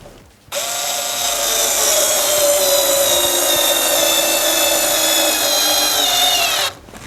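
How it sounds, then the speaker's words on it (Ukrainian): An INTERTOOL WT-0300 cordless screwdriver drives a screw, one loud, close, continuous motor whine lasting about six seconds with a steady pitch that slowly shifts, then stops abruptly. "І ось таким чином ми можемо закрутити гвинт"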